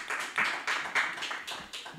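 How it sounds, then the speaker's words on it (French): A church congregation at a Sunday service claps in short rhythmic bursts, fairly faint and roomy, a few sharp hand claps spaced roughly every quarter second. "Applaudissons pour Jésus."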